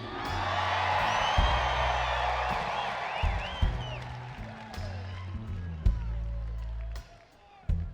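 A large crowd cheers and screams continuously, with whoops rising over a dense roar and a steady low thumping beat underneath.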